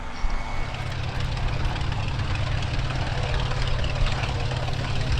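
An RAF aircraft flies an offset barrel roll at an airshow, its engine droning steadily and loudly throughout, a continuous propeller-like roar with no pause.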